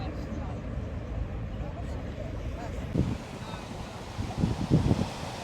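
Wind and surging ocean water along the shore in Sicily, a steady broadband rush with a few heavier wave bursts near the end; a voice is faintly audible underneath.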